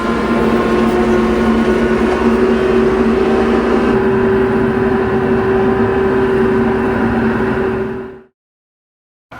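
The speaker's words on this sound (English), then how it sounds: "574 is just humming along. This thing I love this tractor." An International 574 farm tractor engine hums along steadily at a constant pitch, loud and close, on a cold morning, then cuts off near the end.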